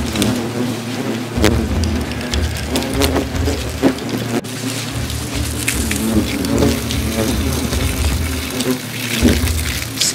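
Water sprayed onto smouldering rotten wood in a hollow holding a hornet nest, a loud, continuous rushing hiss close by with rumbling underneath.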